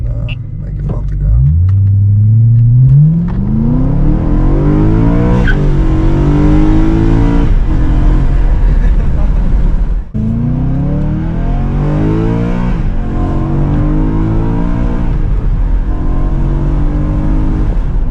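A 2009 BMW M3 E92 coupe pulls away from a stop with a loud, rising engine roar heard from inside. It climbs through the gears with sweeping revs and sharp breaks at each shift, and a voice talks briefly under it.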